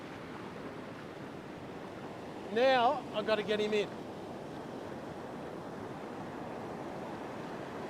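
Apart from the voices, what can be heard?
big waves and surf breaking on a beach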